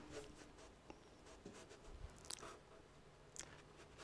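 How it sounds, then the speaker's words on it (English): A watercolour brush wets the paper with quiet scratchy, papery strokes and faint taps, soft and close with no speech. "Just wetting the paper like that."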